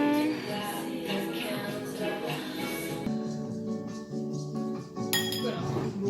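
Glasses clink in a toast over dessert during a trip to Rotorua, New Zealand, with one bright clink near the end rising above the ongoing music and busy room chatter.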